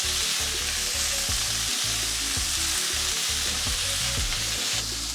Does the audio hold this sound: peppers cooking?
yes